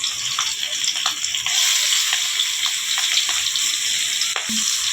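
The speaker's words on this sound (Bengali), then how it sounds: "আমি এখন মাছটা খুব দেওয়ার জন্য মাছটা হালকা ভেজে দিচ্ছি" Pangas fish pieces coated in turmeric lightly frying in hot oil, a loud continuous hiss and crackle with scattered pops and a few soft stirring knocks, close and steady.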